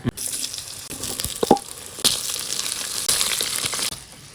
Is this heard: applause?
no